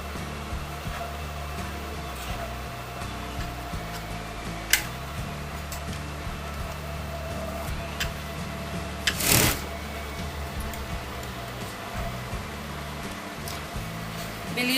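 A sewing machine stitches a collar band onto a designer neckline in a steady, quiet mechanical whir, with a few sharp clicks and one louder burst partway through.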